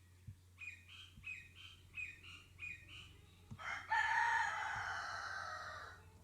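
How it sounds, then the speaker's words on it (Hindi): A neighbour's rooster crows from nearby, preceded by a run of short repeated bird calls, then one long, loud crow rising and holding for a couple of seconds over a steady low hum. "हमसायों को मुर्गे भी तंग कर रहे हैं यार"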